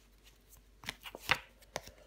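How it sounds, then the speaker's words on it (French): Tarot cards being shuffled and laid down during a reading, heard as a few soft, quiet riffling and tapping bursts over about two seconds with no talking. "Je vais recouvrir le roi d'épée."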